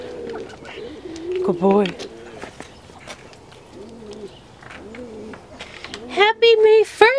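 Pigeons coo in soft, repeated bursts nearby, mixed with other bird calls, while a person talks to the birds in a friendly voice between the calls.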